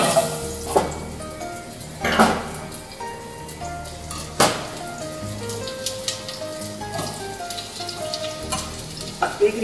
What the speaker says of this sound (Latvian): Katliņā ieliejam nedaudz eļļu, jo burkānus pirms tam mums vajadzēs apcept.